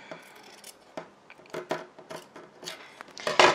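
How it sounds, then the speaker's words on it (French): Scissors cutting a fabric back facing: a series of crisp, close snips and rustling fabric, irregular at first and then quickening, with the loudest cuts at the end. "Et je vais découper ma parmenture dos."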